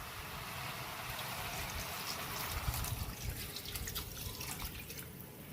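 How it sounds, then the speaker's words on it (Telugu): Water poured into a pressure cooker of chicken pulao. It makes a steady, close, trickling splash that runs for several seconds, with no talking. "సో ఇప్పుడు వాటర్ వేసుకుందాం."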